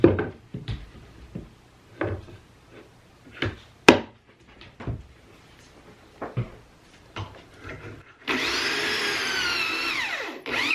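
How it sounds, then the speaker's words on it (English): A pocket-hole drill bores into a 2x4 wood board: scattered knocks and clunks of handling come first, then a loud, steady whirring burst of the drill running near the end. "The 2 pocket holes are drilled into each of these 6 2x4s, which are 21 inches long."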